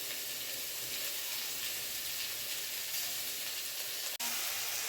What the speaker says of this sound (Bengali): লঙ্কা কুচিকে লাল করে ভেজে নিয়ে